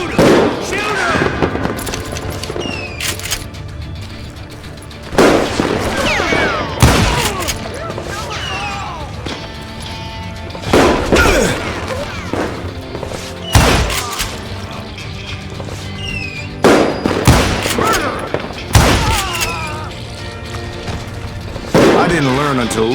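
Call of Juarez: Gunslinger gunfire: loud, booming shots and bursts scattered over the scene, several heavy hits spaced seconds apart, mixed with game effects and voices talking throughout.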